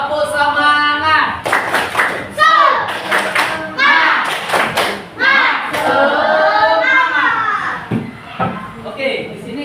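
Schoolchildren in an Indonesian classroom clap a rhythmic cheer in unison, with bursts of sharp claps mixed with loud chanting children's voices throughout.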